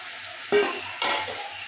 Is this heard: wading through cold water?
no